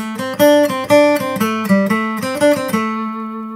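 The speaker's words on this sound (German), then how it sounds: "Und dann haben wir hier ein V-Pick, das ist aus Plexiglas und das klingt nochmal ganz anders." Bright acoustic guitar melody picked with a plexiglass V-Pick, crisp, hard attacks, a quick run of notes that rings out and fades at the close.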